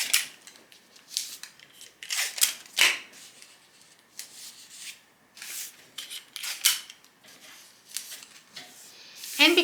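Scissors cutting around a paper dress pattern, repeated crisp snipping strokes in irregular bursts with short pauses, close and fairly loud.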